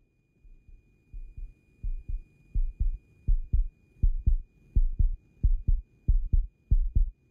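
A fast, heavy heartbeat in the sci-fi game The Invincible thumps in paired low beats, steadily growing louder and quicker, with nothing else but a faint thin tone behind it.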